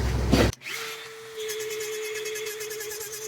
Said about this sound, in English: I'm gonna just sand this thing up with this, get the inside done